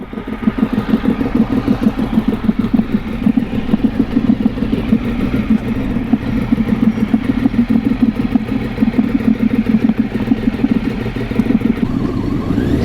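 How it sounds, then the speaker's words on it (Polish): A Ducati 800 motorcycle engine rumbles loudly and steadily up close, its throaty exhaust pulsing without a break for the whole stretch. "Ale Ducati 800 wali z rury"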